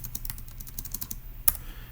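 Quick typing on a computer keyboard, a close run of light clicking keystrokes, then a short pause and one sharper final keypress.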